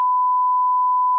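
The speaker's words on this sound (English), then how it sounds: "We're beeping that part out" A single steady censor bleep, a pure high tone held for just over a second, blanks out a stretch of speech during a podcast conversation.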